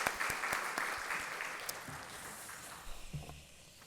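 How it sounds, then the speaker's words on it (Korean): Church congregation applauding the praise team and choir during a Sunday morning service, a loud burst of clapping that gradually thins and fades, with a voice briefly emerging near the end. "오늘도 우리 수고하신 찬양팀 우리 성가대 우리 함께 하나님께 영광의 박수 함께 올리도록 하겠습니다."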